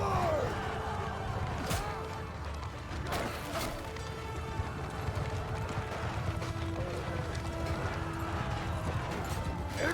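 Horses gallop past in the Mount & Blade II Bannerlord battle game, a continuous clatter of hooves with scattered thuds and crashes running under distant battle noise for the whole stretch.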